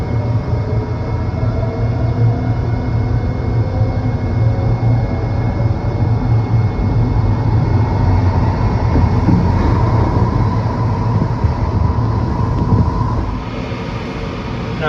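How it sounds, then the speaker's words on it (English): Green Line metro train pulling out of Fort Totten station, heard from the cab: a loud, steady rumble of motors and wheels on rail that builds and holds, with a brief higher whine near the end. "Departing Fort Totten on a Green Line train bound to Southern Avenue."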